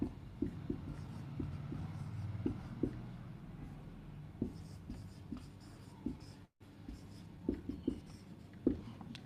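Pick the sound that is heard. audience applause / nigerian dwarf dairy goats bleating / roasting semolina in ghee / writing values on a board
writing values on a board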